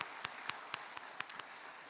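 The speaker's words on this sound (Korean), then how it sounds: "우리 다시 한번 진솔 박수로 격려하겠습니다." A congregation at a church service claps for the worship team, sparse and faint: a handful of separate, scattered claps spaced a fraction of a second apart, quiet and tapering off.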